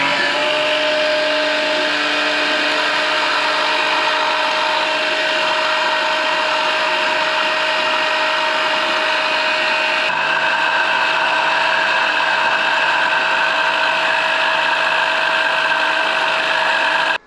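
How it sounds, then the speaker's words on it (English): A small pump or suction device draws leftover dirty engine oil from the oil reservoir of a Can-Am Ryker three-wheeler, giving a steady, close, whirring mechanical drone that holds for the whole stretch, with no talk. "now I will just suck as much as possible of those leftover dirty oil that is in the reservoir"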